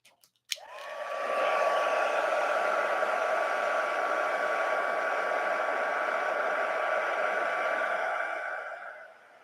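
Heat embossing tool blowing hot air in a steady, close, loud whoosh with a faint whine that runs for about eight seconds, then starts to wind down.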